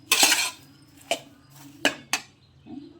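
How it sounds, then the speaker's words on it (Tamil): A metal spoon stirs salt and oil into mealmaker chunks in a bowl: a scraping swirl up front, then a few sharp, separate clinks against the dish, close and clear with no talk. "இந்த மாதிரி நல்லா கலந்து விட்டுடலாம்."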